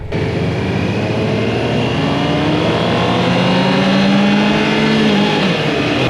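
A 2025 Honda CB650R motorcycle with E-Clutch, a 650, accelerates hard with a loud, continuous engine roar whose pitch climbs steadily, heard close with no voices.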